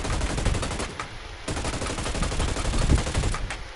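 Rapid automatic gunfire from the Hyper Scape shooter game, loud close bursts repeating steadily with brief gaps throughout, no voices.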